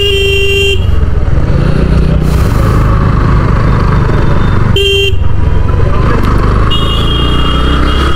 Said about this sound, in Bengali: এই রাস্তাগুলো এত জ্যাম হয়, মানে গাড়ি নিয়ে যাওয়াই যায় না